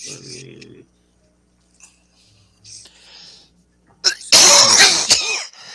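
A burst of harsh coughing breaks out after several quiet seconds that hold only faint, scattered noises; the coughs are loud, close and rough.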